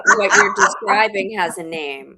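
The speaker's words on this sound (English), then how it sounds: "that was the dog." A dog barks and yips a few times in the background of a podcast recording, mixed under a person talking.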